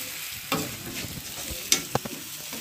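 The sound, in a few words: vegetables lightly frying in a pan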